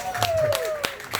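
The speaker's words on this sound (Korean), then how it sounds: "박수 한번 쳐주세요." A crowd at an outdoor beach pumba street performance in Pohang claps in a few evenly spaced beats while a sustained voice-like tone slides downward over them.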